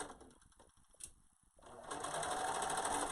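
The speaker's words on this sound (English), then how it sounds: "Just straight stitching." A sewing machine runs a straight stitch along the shoulder seams of a reusable isolation gown, its motor whirring steadily after a few short bursts and a brief pause, close and continuous.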